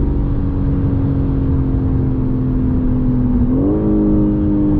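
A 2022 BMW M4 Competition xDrive revs hard under full throttle, its steady engine drone climbing sharply in pitch near the end as it accelerates, loud and close from inside the cabin.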